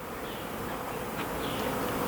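Honeybees buzz in a thick, steady drone around backyard hives during a robbing frenzy, close and continuous with no voices.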